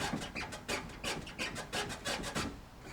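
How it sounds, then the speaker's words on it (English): A rhythmic rubbing scrape repeats about every third of a second as the left wheel of a 4A-GE-powered Toyota KE70 Corolla, fitted with new lower control arms, scrubs against the wheel guard, close and steady with no talk. "that left wheel is scrubbing the guard super bad"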